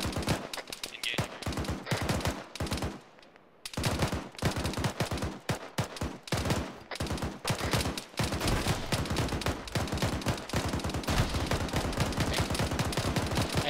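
Sustained bursts of automatic rifle and machine-gun fire from a military video game firefight, dense rapid volleys rattling almost continuously with a brief lull early on, loud and close.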